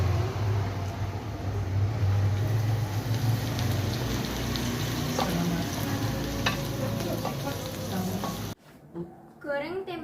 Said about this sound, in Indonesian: selanjutnya kita akan menggoreng tempe